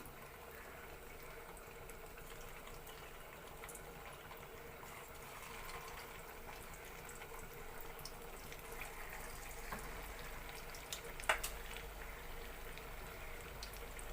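A coconut milk sweet fries in medium-hot oil, giving a steady, soft sizzle and bubbling that holds even throughout, with an occasional faint pop.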